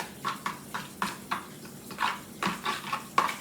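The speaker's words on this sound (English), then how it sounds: "I'm just going to give that a quick stir" A spoon stirs tartar sauce in a bowl, making about a dozen soft, rhythmic scraping strokes with faint clinks, close and fairly quiet.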